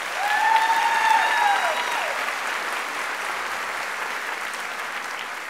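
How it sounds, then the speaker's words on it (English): An audience applauds a student dance troupe from a local school of dance at a school convocation, steady full clapping throughout with a few whistles early on. "let's give them a big round of applause"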